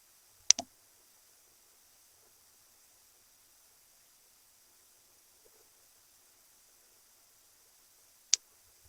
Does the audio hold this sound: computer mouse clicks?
yes